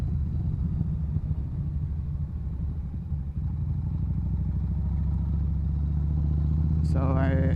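A Yamaha Bolt motorcycle is ridden on the road, its engine a steady, deep rumble mixed with wind buffeting, continuous throughout, with a brief higher tonal sound near the end.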